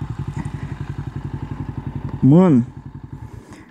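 A Suzuki GS 500 motorcycle engine runs close by with a steady, rapid thumping pulse throughout, and a brief voice rises over it near the end.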